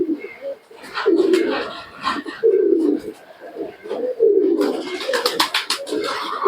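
Several Teddy and Giribaz pigeons coo close by in repeated low, throaty phrases, with wing flutters and rustling toward the end, in the rainy season.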